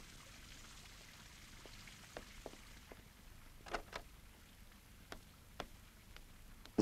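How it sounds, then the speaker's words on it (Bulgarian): Heavy rain falls outside as a steady, soft hiss, with scattered sharper drip and splash ticks standing out at irregular moments over the wash. "Ужасен дъжд."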